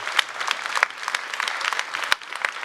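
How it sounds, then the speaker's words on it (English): An audience at a weekly internal company Q&A claps briefly, a dense burst of handclaps close by that fills the moment, with no talking over it. "Don't clap."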